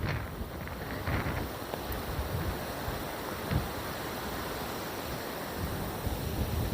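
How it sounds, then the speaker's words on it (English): Steady wind blowing outdoors across a mossy graveyard, roaring as a broad, continuous rush with gusty buffeting against the microphone throughout, fairly loud and unbroken. "I hope you can hear me with this wind."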